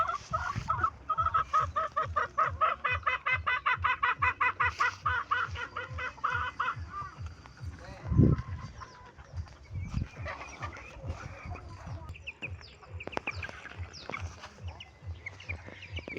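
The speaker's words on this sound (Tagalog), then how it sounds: "Puro na to mga tandang naiwan dito guys." Roosters on a Philippine farm where only cocks remain, clucking in a steady rapid series with tonal calls, then scattered nearer clucks and rustling, fairly close and with no one talking.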